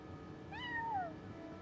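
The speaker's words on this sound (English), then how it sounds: "No one except for a cat watching over the front desk" A single cat in Genshin Impact, sitting at a fancy front desk, gives one clear rising-then-falling meow over a quiet background hum, with no talking.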